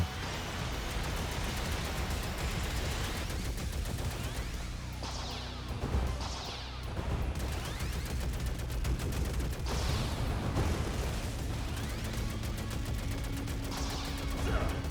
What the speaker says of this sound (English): I thought that thing would block the explosion.